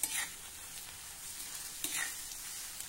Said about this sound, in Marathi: हा कांदा आता आपल्याला छान तांबूस होईपर्यंत परतायचा आहे।